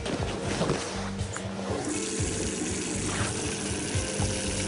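Water runs in a steady stream from a faucet that has not been fully shut off, a continuous splashing trickle with a low tonal hum underneath, fairly close and without any talking.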